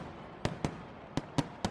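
Firework and firecracker bursts at the Yanshui Beehive Fireworks Festival in Tainan, Taiwan: five sharp, fairly distant cracks fired in two loose groups, with no talk over them.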